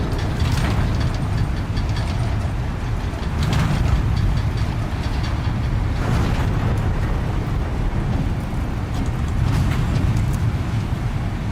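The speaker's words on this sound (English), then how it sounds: "I got like a whole train I can use right now" A train rolls along in the video game Death Stranding 2, heard as a loud, continuous rushing rumble with periodic surges every couple of seconds and no talking.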